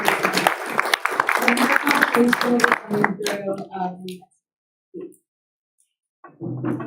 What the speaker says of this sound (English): everyone give a hand of applause for Cortland McMeans